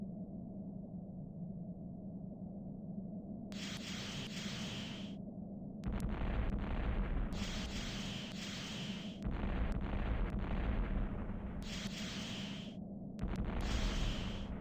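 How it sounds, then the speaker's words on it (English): Explosions of hangar installations in a 3DO flight combat game, heard as a steady low engine drone broken by repeated bursts of loud, hissing blast noise, each lasting a second or two, with no talking. "So do I blow up these hangar installations?"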